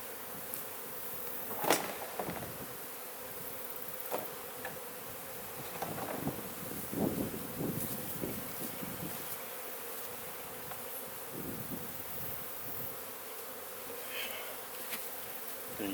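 Honey bees buzz steadily around an open hive during an autumn honey harvest, a dense continuous drone close by with occasional louder passes near the listener and faint handling noises; no talking.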